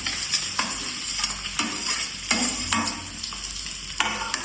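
Boiled potatoes stirred with turmeric in a frying pan, a close sizzle broken by repeated scraping strokes of a spoon at an irregular rhythm, with no talking.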